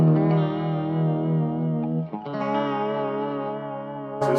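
An electric guitar played through a Walrus Audio Julia chorus pedal on its vibrato side sustains a warbling, pitch-wobbling chord, with a brief dip before a second strummed chord rings on alone.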